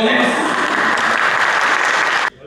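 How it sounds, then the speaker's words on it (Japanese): Dense applause from an audience at a Suzuki Jimny owners' meetup, loud and continuous for about two seconds before cutting off abruptly, with no voices over it. "鳴りやまない拍手ありがとうございます。"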